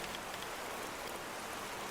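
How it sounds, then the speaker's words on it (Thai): Rain falls in the video game A Space for the Unbound, a steady, even hiss of dense drops with no pauses and no voices. "ฝนมันตกอ่ะ"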